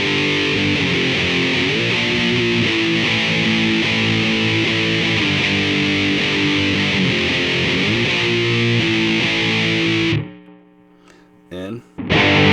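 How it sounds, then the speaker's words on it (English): Electric guitar through a BOSS GT-8 multi-effects processor on a Big Muff distortion setting, thick sustained fuzzy chords playing loudly and steadily for ten seconds before cutting off, followed by brief quiet and a few faint sounds. "So let's see what the big muffle sound like."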